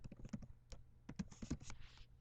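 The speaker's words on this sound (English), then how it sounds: "I'm just going to type in the URL for my blog." Quick, light keystrokes clatter on a computer keyboard as a web address is typed, coming in uneven bursts with short pauses, close up and fairly quiet with no voices.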